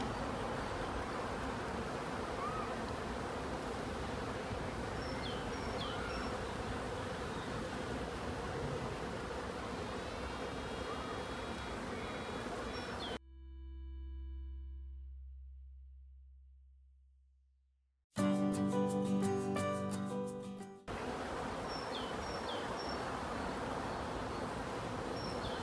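Honeybees buzz in a dense, steady drone inside an orphaned hive, continuous for long stretches and broken by a section of pure synthetic tones before the humming resumes.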